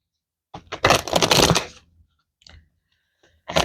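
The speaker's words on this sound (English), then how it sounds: "All right, one more shuffle." A deck of tarot cards is shuffled once in a quick papery riffle lasting about a second, close up, followed by a few faint card taps and a short final flutter.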